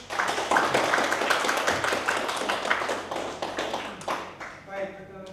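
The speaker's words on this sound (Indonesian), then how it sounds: "Tepuk tangan dulu dong." Audience clapping hands during a legal system conference session, a dense burst of applause that thins into scattered claps toward the end, with people talking underneath.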